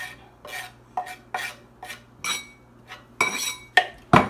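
A spoon scrapes and clinks in a bowl while stirring a stuffed mushroom mixture, with roughly nine distinct stirring strokes in an uneven rhythm, close and fairly crisp, over a faint low hum.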